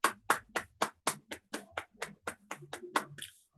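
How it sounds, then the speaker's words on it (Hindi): Steady, evenly spaced hand claps during a presentation session: about a dozen crisp strikes in under four seconds, moderately close and fairly quiet, with no voices over them. "इनके लिए भी मैं जोरदार तालियां चाहूंगी दोस्तों"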